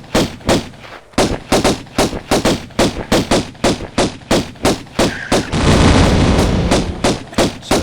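Tomb Raider 1 video game gunfire from a custom tomb level: a loud, steady string of sharp shots spaced a fraction of a second apart, broken midway by a roaring blast of sustained noise before the shots resume.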